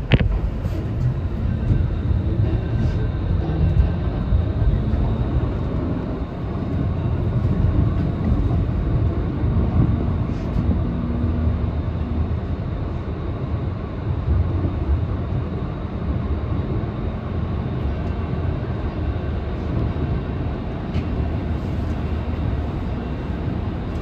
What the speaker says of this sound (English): This is a Valley Line train.